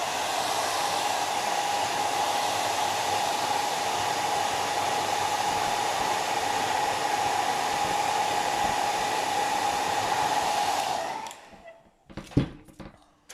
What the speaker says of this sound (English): I'm just going to dry this quickly because it's still a little bit sticky on the bottom.